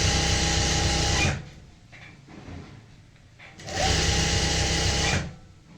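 Electric sewing machine stitching a pleated palazzo pant, two loud sustained runs of whirring stitches separated by a quieter pause with faint handling noise.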